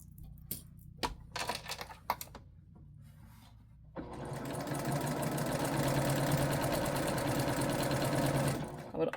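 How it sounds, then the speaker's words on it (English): Sewing machine hemming fabric for cross-stitch finishing: a few clicks and handling taps, then the motor starts and runs in a steady, loud, rapid whir for about five seconds before stopping. "I'm using the marker on my sewing machine"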